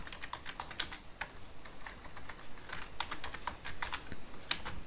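Fast typing on a computer keyboard while building an Excel VBA sales system, a quiet close run of irregular key clicks without talk.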